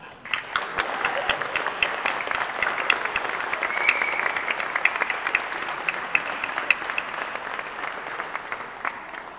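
Audience at a Christmas concert applauds warmly, a long, full round of many people clapping with crisp individual claps popping out of the steady wash.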